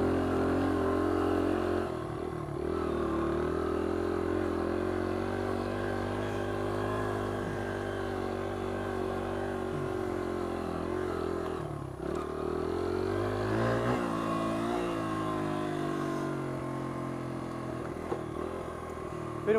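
A Honda XR100 dirt bike drones steadily through a slick woods track, its mid-pitched engine holding a continuous note that dips and rises with throttle changes around a corner, close and loud throughout.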